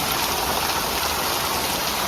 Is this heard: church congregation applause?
no